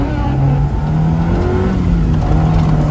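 Honda Civic with VTEC, just fitted with a new steering rack and tie rods, revving hard and loud and close up with a steady, strained engine roar throughout.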